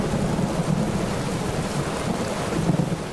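Heavy rain pours down in a dense, constant roar with a low rumble of thunder beneath it, loud and continuous throughout with no voices over it.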